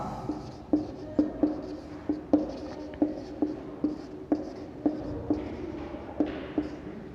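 Chalk or marker writes on a board in a steady run of sharp taps and short scratchy strokes, close and fairly quiet, with no speech over it.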